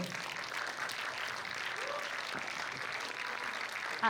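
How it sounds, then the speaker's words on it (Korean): Audience applause welcoming a speaker at a Korean military troop-support lecture event, a steady wash of many hands clapping from a crowd, evenly sustained throughout. "박수로 맞이해 주세요"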